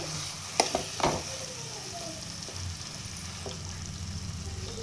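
Potatoes dropped into a hot pan for aloo paratha filling, a couple of knocks followed by a steady, close hissing sizzle that carries on evenly to the end.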